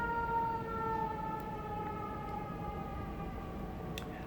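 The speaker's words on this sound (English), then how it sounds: "as soon as this ambulance passes" An ambulance siren wails steadily as the vehicle passes, its sustained tone slowly sliding down in pitch over constant background traffic rumble, moderately loud and with no talking.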